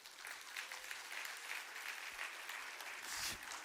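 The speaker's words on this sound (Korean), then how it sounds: "우리 1년 동안 매주 찬양할 수 있도록 섬겨주신 우리 찬양팀 한번 박수 한번 하지" Steady applause from a church congregation for the worship team at a Sunday service at a New Jersey church, a dense, continuous patter of many hands clapping throughout, moderately loud and even, with no speech over it.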